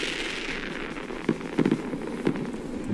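Evening fireworks from a 31-shot Daredevil battery bought at a German supermarket, sounding as a few sharp bursts around the middle of the clip over a steady background rumble.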